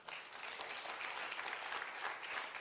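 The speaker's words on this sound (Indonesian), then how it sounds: "tepuk tangan yang keras." Loud, steady applause from a church congregation fills the whole stretch, dense clapping without a break and no voices standing out.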